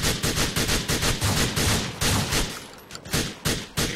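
Rapid, steady gunfire in the GTA video game, with dense repeated shots forming loud bursts that continue for several seconds.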